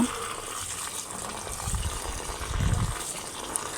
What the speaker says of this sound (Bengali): চাল ডাল একসাথে নিয়ে নিয়েছি নিয়ে ভালো করে মিক্স করে ধুয়ে নেব